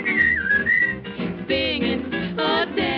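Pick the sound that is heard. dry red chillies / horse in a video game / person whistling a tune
person whistling a tune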